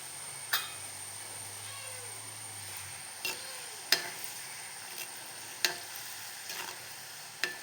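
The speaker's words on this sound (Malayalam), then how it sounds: "എന്നിട്ട് വറുത്ത് കോരി എടുത്തോളൂ." Chukkappam dough fries in hot oil with a low steady sizzle, broken by several sharp metallic clicks and scrapes of a utensil against the pan.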